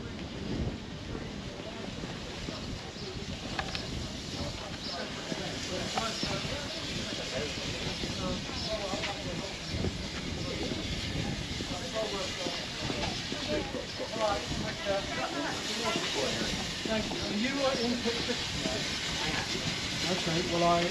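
A steam engine on the Swanage Railway to Norden, giving a steady broad hiss with rumbling and wind buffeting over about twenty seconds, with people talking nearby.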